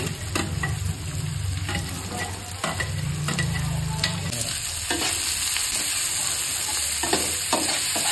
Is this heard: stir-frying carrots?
yes